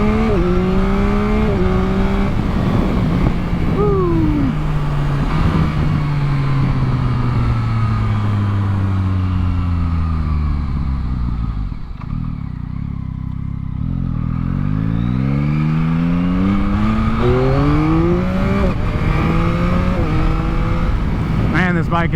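A 2022 Yamaha MT-09 motorcycle engine revs and pulls hard while riding, its pitch sweeping up and down through several gear changes, with a short dip near the middle. Wind noise runs throughout and a voice talks at times.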